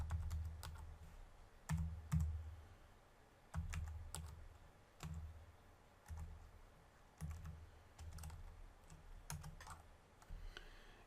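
Keys on a computer keyboard clack in short bursts and single taps, close and fairly quiet, with brief pauses between groups of keystrokes.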